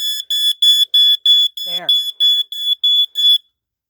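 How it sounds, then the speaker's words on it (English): A Radio Shack smoke alarm sounds a rapid series of about ten loud, shrill electronic beeps in a steady rhythm, then stops abruptly, with a brief spoken word in the middle. "that's the Radio Shack smoke detector"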